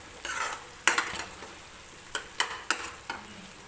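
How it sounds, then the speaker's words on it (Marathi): Masala for mutter paneer fries in oil in a kadhai, a soft steady sizzle broken by several sharp scraping stirs of a spoon against the pan, close up and with no voices. "तर हा मसाला आपल्याला बाजूने तेल सुटेपर्यंत भाजून घ्यायचा आहे."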